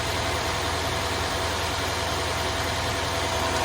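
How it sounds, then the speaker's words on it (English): Mercedes GLE63s AMG engine idling nice and smooth in a workshop, a steady close rumble with even low vibration and no talking. "We're idling nice and smooth"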